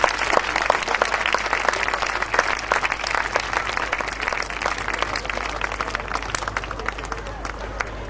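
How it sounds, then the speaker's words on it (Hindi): Sustained applause from a crowd, dense steady clapping that continues throughout with a bit of background chatter. "हमारे सभी स्पॉन्सर्स का प्लीज जोरदार तालियों से स्वागत कीजिए।"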